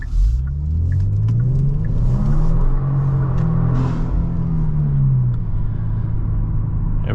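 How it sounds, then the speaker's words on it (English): Tuned 2023 Genesis G70 making 450 horsepower, heard from the cabin as its engine pulls hard under acceleration, a loud deep drone rising in pitch through the gears with a brief dip at a shift, then settling into a steady heavy rumble. "Let's go ahead and do an acceleration right here."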